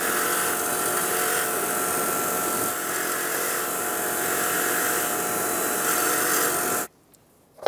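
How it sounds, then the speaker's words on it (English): A wire wheel scours old thread locker off wheel bearing bolts from a Toyota Highlander, a loud continuous high whirring grind that runs steadily for several seconds and then cuts off abruptly to near silence. "I'm going to take them to the wire wheel, clean off the old thread locker"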